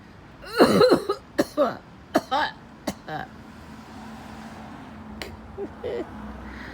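Several harsh coughs in quick succession up close, followed by a throat-clearing sound, then a quiet hum with faint clicks.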